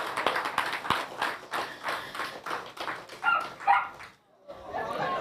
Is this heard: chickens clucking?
no